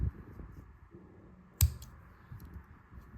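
Scissors snip through crochet yarn while making earrings, one quick crisp cut standing out from a quiet background with faint talk around it.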